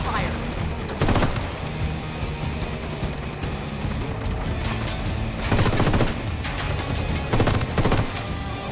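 Gunfire in Ghost Recon Wildlands, with heavy bursts of automatic shots and louder volleys punching through at intervals over a dense battle backdrop while voices shout orders.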